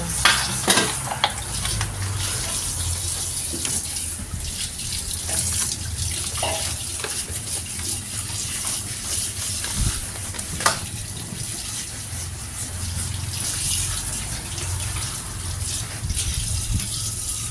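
Coconut milk stirred in a cooking pot for banana and sweet potato pinaltok, giving a steady close liquid swish and sizzle with occasional soft clinks of the spoon against the pot.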